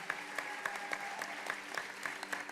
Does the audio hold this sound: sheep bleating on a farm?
no